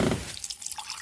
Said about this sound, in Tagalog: sandali kukuha ko kayo ng tubig.